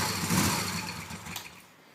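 A Moto Guzzi V7 Racer motorcycle engine runs with a close, mechanical, somewhat tinny drone that fades down toward the end of the short stretch.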